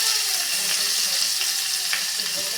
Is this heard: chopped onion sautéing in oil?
yes